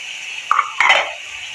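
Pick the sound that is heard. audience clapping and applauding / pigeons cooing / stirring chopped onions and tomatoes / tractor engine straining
stirring chopped onions and tomatoes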